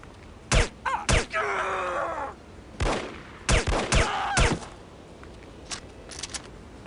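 Incendiary gunshots in No One Lives Forever, a string of sharp, loud single shots spaced irregularly. A groaning, voice-like sound follows an early shot, and fainter shots trail off toward the end.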